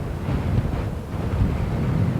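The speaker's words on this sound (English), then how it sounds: "We all struggle to stand upright here in this wind." Strong gusting wind buffets the microphone at an outdoor high school baseball game, a steady low roar without a break.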